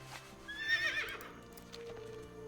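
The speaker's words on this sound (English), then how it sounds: "I'm gonna get on my horse." A horse whinnies in a rising, shrill call, with a few hoof clops underneath; short and close, with a synthetic game-like quality; mounting a horse in World of Warcraft.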